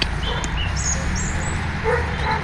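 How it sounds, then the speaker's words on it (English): Dogs bark and yip in the distance over a steady background hum at a busy car park in the Arrochar Alps, Scotland, with faint bird chirps mixed in. "Noisy dogs around."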